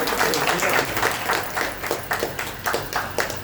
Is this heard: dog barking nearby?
no